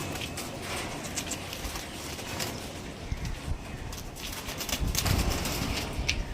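Domestic pigeons of a lambadi trading stock, soft low cooing and bird rustling at a fairly faint level, with scattered clicks and shuffling noises around them.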